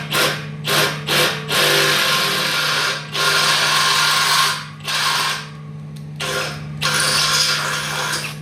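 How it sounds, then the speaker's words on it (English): A Milwaukee power drill bores while a trailer is being built, running in repeated loud bursts: several quick short pulses, then longer sustained whirring runs separated by brief pauses, close up. "You should drill slightly slower."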